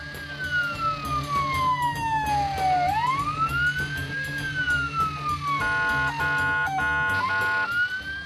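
A fire truck siren wails, sweeping down and back up in pitch, then switches to a fast yelping pattern, loud and steady over traffic rumble.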